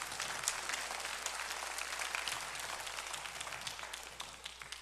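Church congregation clapping their hands together at a community gathering, a dense, steady wash of applause held at an even level for the whole stretch, with no voices over it.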